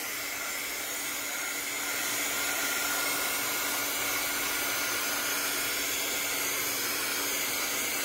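A hair dryer runs steadily at close range over a glittery purple mixed media mask, making a loud, continuous whooshing roar with no pauses and no voices.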